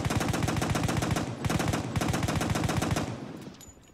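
Rapid automatic bursts from a modded MAS-38 submachine gun in Fallout 4, loud and close, a dense stream of shots with a brief break before fire resumes and then tails off at the end.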